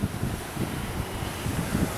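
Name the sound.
wind storm blowing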